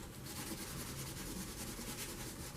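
Steady, dense rubbing as gelato crayon pigment is worked off the back and embossed areas of a paper card, a continuous close scuffing texture with no pauses or talk.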